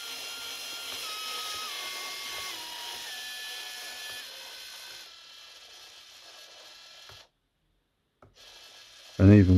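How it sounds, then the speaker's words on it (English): A Cada micro motor whirs noisily with a rough, ratcheting grind and a shifting whine, then cuts out abruptly into near silence before a loud burst of handling noise at the end. "it is quite a noisy motor"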